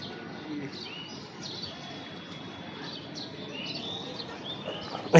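Scattered small bird chirps and tweets come from a short distance over a quiet outdoor background, with a brief loud knock right at the end.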